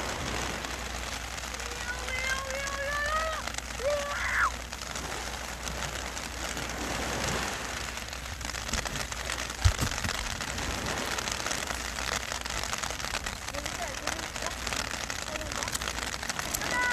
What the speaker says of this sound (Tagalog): Malakas ang ulan, tag-ulan ngayon.